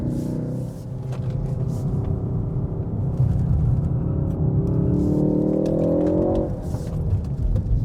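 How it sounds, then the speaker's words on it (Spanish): A Ford Focus ST with a 286 hp engine rumbles and revs loudly from inside the cabin, the engine note rising and falling as the throttle is worked, with crackling pops on lift-off. "Esos petardeos cuando cortamos el gas."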